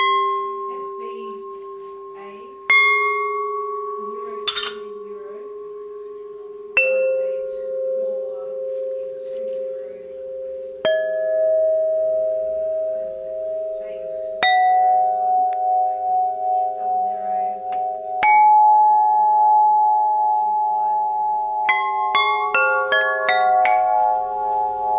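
A handmade wind chime cut from old clothesline pipe, tuned to a 396 tone, rings in a series of struck notes, each bright clang followed by a long sustained hum, with layered tones overlapping near the end.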